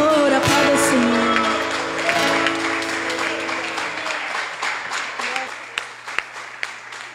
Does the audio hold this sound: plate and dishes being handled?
no